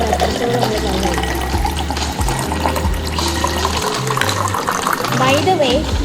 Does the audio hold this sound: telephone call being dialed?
no